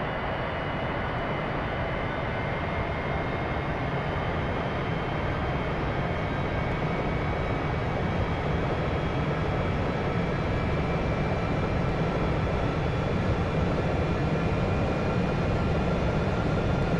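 Norwegian airliner rolling for takeoff on runway 08 right at London Gatwick, heard as a steady, loud, broadband engine roar with a faint high whine, continuous throughout, with no talk.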